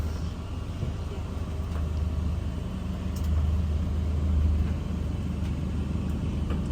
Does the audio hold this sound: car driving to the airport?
yes